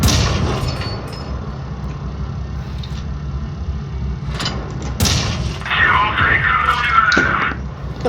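Tank cannon fire in the video game World of Tanks Blitz: a couple of sharp, loud booms burst over a rumbling engine bed, followed by busier battle noise near the end.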